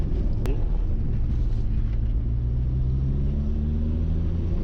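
A Renault Super 5 TL 1.4 engine drones at full throttle from inside the cabin, a steady low rumble whose pitch climbs gradually as the car gathers speed.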